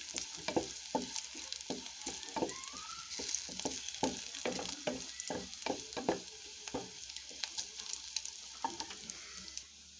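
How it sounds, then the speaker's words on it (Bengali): Onion and garlic, with broken dried red chillies, fry in hot tempering oil for thin masoor dal, a soft steady sizzle broken by regular, quick scraping stirs, quiet and close with no talk. "পেঁয়াজ রসুনটা আমি ডাল বাগার দিয়ে দিলাম"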